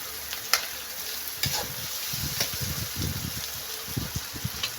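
Crisp lechon kawali pork is stirred in a sizzling pan as a base for sautéed mung beans. Hissing frying and rapid spatula scrapes and taps come in quick irregular bursts, close by and without talk.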